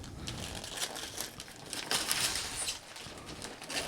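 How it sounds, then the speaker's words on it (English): Wrapping paper on a gift box crinkles and rustles in soft, uneven bursts, fairly quiet and close, with no talking over it. "I have just opened the wrapping paper of the second box"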